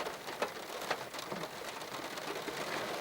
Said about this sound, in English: Relentless rain and the wind stopped now.